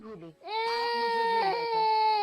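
A baby wails loudly and continuously in a sustained, high-pitched cry that follows a brief whimper, in a domestic drama scene.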